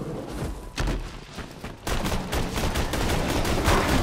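Rapid gunfire in Borderlands 2 rattles in dense bursts, with a short lull before another sustained stream of loud shots.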